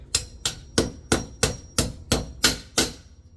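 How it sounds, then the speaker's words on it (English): A hammer taps an inverter mounting plate onto a wall, nine evenly spaced sharp knocks in a steady rhythm, close and clear with no talking. "Now how do we tap it in there? We use a hammer."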